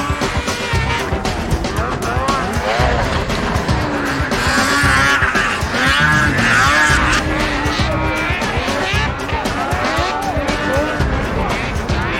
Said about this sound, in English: Speeds upward of 70 miles an hour are no challenge for these finely tuned racing machines.